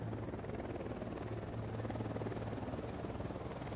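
A helicopter in the Ghost Recon video game drones steadily with a continuous rotor chop and thick engine roar, loud and constant throughout.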